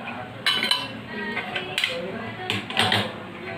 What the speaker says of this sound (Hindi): ऐसे करके मैं सारे ब्रेड को एक एक करके चाशनी में डिप करके एक प्लेट में रखूँगी।